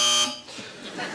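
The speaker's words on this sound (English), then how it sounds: "should any of our panel feel the need to bother with their buzzers today, they sound like this" A short harsh electronic game show buzzer sounds once, then a voice begins speaking right after it.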